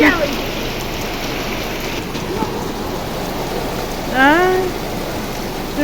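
Steady rain hisses evenly on surfaces throughout, with a brief voice rising out of it partway through.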